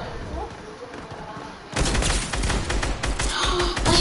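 Rapid bursts of gunfire from a brand-new gun in a video game start partway through, loud and dense, after a quieter stretch, with a player's voice talking over the shooting.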